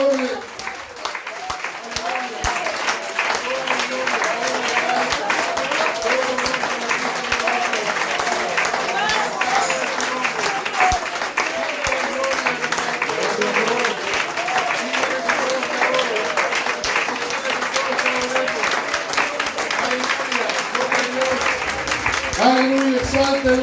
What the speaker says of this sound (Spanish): a darle al Señor Jesús un aplauso porque Él es digno de gloria y digno de alabanza